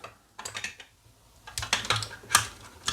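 Plastic parts of a Transformers Heavy Gunner toy being popped out and folded: quick clicking taps and snaps, in a small cluster early on and then a denser run of close, crisp clicks.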